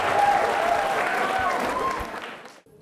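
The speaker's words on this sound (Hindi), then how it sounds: "गीतांशी के लिए तालियां जोरों से बजाइए आप" Applause for a student named Geetanshi at an Independence Day school quiz event, a dense steady clatter of many hands that fades out near the end, with a tonal voice trace riding over it.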